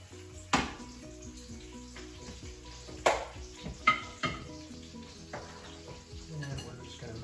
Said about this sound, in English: And we're just going to mix that in.